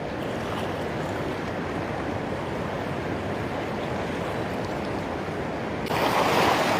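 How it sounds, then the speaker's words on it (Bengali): A continuous, dense roar of water rushing from Durgapur's Randiha dam fills the scene, steady and loud, swelling brighter near the end as if heard closer. "ভীষণ সুন্দর জলের ফ্লো এবং জলের একটা আলাদাই শব্দ হয়"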